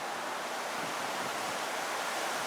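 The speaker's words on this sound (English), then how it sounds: "And here's the water on the other side of the house coming way up." Hurricane floodwater surging around a house, a steady broadband rush of water with wind, loud and unbroken throughout.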